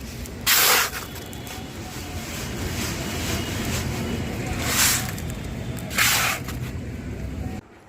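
Barley grains roast in a pan at home in village style, giving a continuous dry, hissing rustle with three louder bursts of stirring and scraping.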